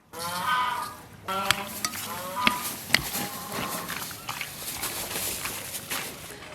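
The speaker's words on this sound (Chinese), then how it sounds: "拌起腌上半个小时" Pork strips tossed by hand with scallion, ginger, baijiu and salt to marinate, giving soft wet squelches and a few sharp clicks, close and fairly quiet, with a brief hum of background noise at the start.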